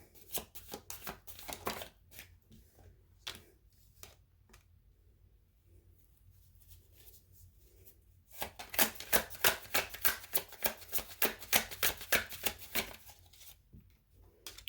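Tarot cards shuffled by hand during a reading, a run of crisp riffling bursts, then a quieter stretch of soft handling, then a dense, loud rapid riffle close to the ear.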